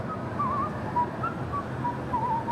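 Several people whistle a melody together as a group, thin wavering tones rising and falling in short phrases over a steady background hum, fairly close.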